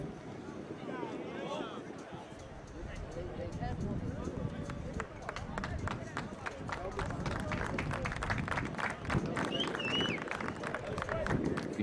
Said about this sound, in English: You could hear the claps on the field